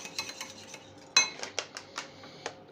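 A utensil stirs a homemade cleaning mixture made with Clorox bleach in a container, giving a series of quick, light clinks and scrapes at an irregular rhythm, close and fairly quiet, with no talking.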